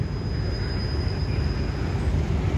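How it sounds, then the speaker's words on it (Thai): Express train 167 from Bangkok to Kantang pulling into platform 1 at Maluan station on the Thai southern line, a steady low rumble of rolling wagons held close and constant throughout. "ขบวนรถเร็วขบวนที่167กรุงเทพกันตังการทำขบวนเข้าสู่สถานีมะลวนในชานชาลาทางที่1นะครับ"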